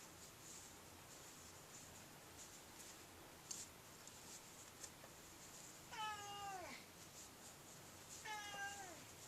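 A male cat meows twice, a longer wavering meow followed later by a second one, both fairly close over a faint, quiet indoor background.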